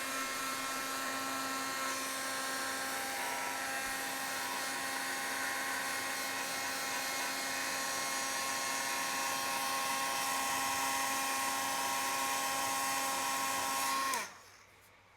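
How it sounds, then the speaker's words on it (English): A heat gun warms alcohol ink from the back side of the work, blowing a loud, steady whine with a constant pitch up close before cutting off abruptly near the end. "Then I'm going to heat from the back side to start with my heating tool."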